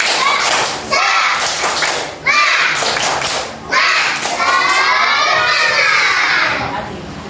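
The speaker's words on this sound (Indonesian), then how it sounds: "Tepuk semangat." A class of young schoolchildren performs a rhythmic spirit clap in a classroom, loud close patterned clapping in short bursts mixed with their chanting voices.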